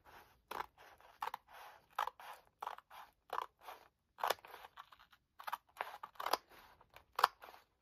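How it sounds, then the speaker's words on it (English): Scissors cut paper for fussy-cut crafting in a long run of short, crisp snips, about two dozen close, quiet cuts in an irregular rhythm, with no voices. "these scissors are not the strongest."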